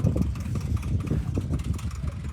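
A farm tractor's engine runs on a field with a steady, low, throbbing idle that stays close and constant throughout.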